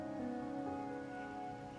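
Steady rain falls in the video game Wuthering Waves, a soft, continuous hiss with sustained musical tones layered beneath it and no voices.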